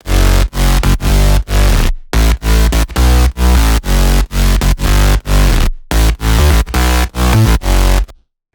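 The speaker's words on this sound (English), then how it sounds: "Very gritty, very heavy, very distorted, just beautiful." Gritty, heavy, distorted synth bass from an electronic dance track, loud pulsing notes in a steady chopped rhythm with brief gaps, played alone for several bars.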